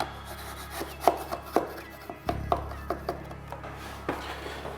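Smoothing a rough skim coat at the bottom of an interior wall during a renovation, quiet scraping and rubbing strokes in an irregular rhythm over a low background hum, with a few sharper taps.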